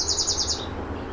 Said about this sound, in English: give a listen to that little bird in the tree